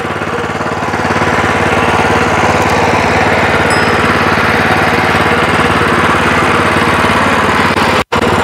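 A Weima WM1100C-6 walk-behind tractor engine runs while the machine drives along, making a loud, close, continuous chugging drone with steady rapid pulsing that cuts out sharply for an instant near the end.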